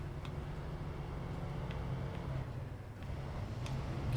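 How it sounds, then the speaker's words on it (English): Truck engine in SnowRunner whining steadily as it crawls off-road over rocky terrain, a continuous low drone with a faint high whine, moderately loud and without speech. "You can just hear that engine whining."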